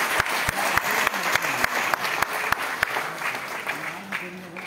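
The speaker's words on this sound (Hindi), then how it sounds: "आप सब लोग जोर से ताली बजाकर स्वागत कीजिए मुरुगन जी का" An audience at a Jan Ashirwad Sammelan gathering in RK Puram claps loudly and steadily in welcome, a dense wash of applause with sharp accents, a voice speaking over it near the start.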